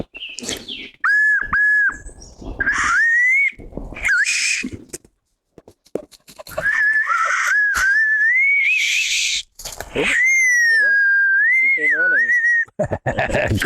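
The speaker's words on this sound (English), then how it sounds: "It's a dog whistle." A homemade whistle carved from a basswood branch is blown in a series of shrill, wavering tones, some short and some held and bending in pitch, close and loud, with brief pauses and faint birdsong between blasts.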